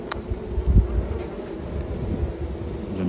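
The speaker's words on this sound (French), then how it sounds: "le frelon à l'intérieur de la ruche. Là en bas, donc" Inside a honeybee hive, bees mob and fight an intruding hornet, producing a close, dense buzzing drone with scattered sharper bursts and rustles, steady and loud-ish without any voices.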